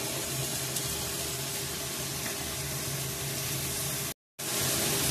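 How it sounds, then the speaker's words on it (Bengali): A Bengali spice paste of ginger, chilli powder and turmeric fries with tomato in a pan, giving a steady, close, even sizzle that runs almost throughout before a brief cut to silence near the end. "একটু আদা বাটা দেওয়া হলো, দিয়ে মশলাটাকে কষিয়ে নেওয়া হচ্ছে টমেটোর সাথে"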